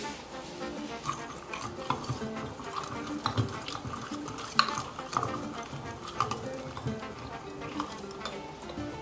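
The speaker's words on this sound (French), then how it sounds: "Remuez bien." A homemade hair spray preparation is stirred in a container, giving irregular scraping and clinking strokes at close range with no voices.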